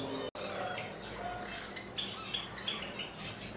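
Java sparrows kept as cage birds give soft, scattered chirps and short tweets, faint and somewhat distant over a quiet background hiss, with no talk.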